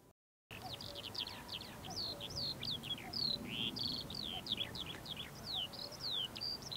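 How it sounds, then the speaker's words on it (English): Birds singing at a model glider competition field on a spring morning, a nightingale close overhead with a varied series of clear whistled and chirped phrases over a low outdoor rumble; a distant cuckoo is not clearly distinguishable. "There's a cuckoo in the distance. There's nightingale just above me."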